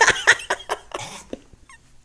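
A voice imitates a small chihuahua vomiting: a rapid series of five or six retching, hacking bursts that trail off into a few softer gasps and squeaks.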